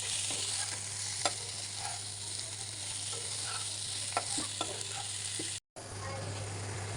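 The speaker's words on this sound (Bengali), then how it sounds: "এখন পটলগুলো ঢেলে নেড়ে ছেড়ে দিব একটু উল্টে পাল্টিয়ে দিলে এটা পুরোটা একদম মিশে যাবে একসাথে" Pointed gourd is tossed into a pan of fried onion and chilli and turned over, a constant soft sizzle punctuated by a few sharp spoon scrapes and clinks, close by, no voices and a brief dropout near the end.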